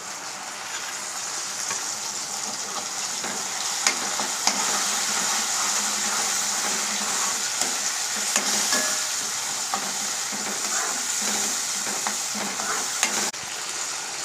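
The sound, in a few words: onions frying with tomato paste, stirred in pan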